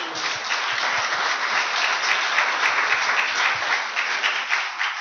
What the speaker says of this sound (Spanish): Un aplauso a Dios